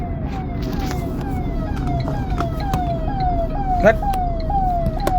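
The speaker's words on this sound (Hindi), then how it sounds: "देखिए एम्बुलेंस जा रहा है।" An ambulance's wailing siren sweeps up and down repeatedly over steady traffic rumble, loud and close as it passes.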